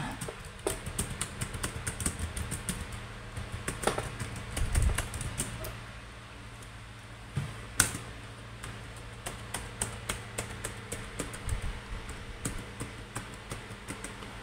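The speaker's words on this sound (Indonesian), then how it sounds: "Oke, kita coba keyboardnya." Fingers type on the keyboard of a Lenovo V14 ADA laptop, producing a steady run of light plastic key clicks with irregular rhythm. Occasional louder taps stand out over a low background hum. No one speaks.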